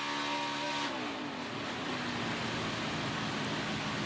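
A NASCAR stock car on a qualifying lap at the 2017 Firekeepers Casino 400, its engine note dropping as the throttle is rolled off, then a sustained loud roar as it pulls away, with no talk.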